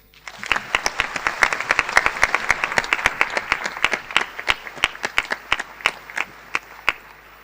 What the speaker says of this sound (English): I invite you all to join me in giving them a well-deserved round of applause.